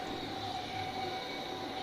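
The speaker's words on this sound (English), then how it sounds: "See, there's other train just arriving." A passenger train pulls into the station in a train simulator game, a steady rumbling roll of wheels and carriages with a faint tonal whine, continuous and fairly close, with no talking.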